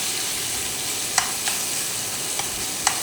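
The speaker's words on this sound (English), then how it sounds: "You hear that sizzle? So in goes our lobster meat." Lobster meat sizzles steadily in a hot pan, a continuous crackling hiss punctuated by a few sharp utensil taps, with no one talking.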